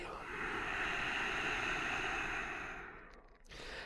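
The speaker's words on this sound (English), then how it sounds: "Inhale and exhale." One slow, deep breath heard up close during a slow yoga workout, a long airy inhale-exhale that fades out near the end.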